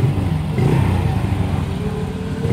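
A 600 micro sprint race car engine revving on a dirt track, a loud, close, buzzing engine note rising and falling with mechanical clatter.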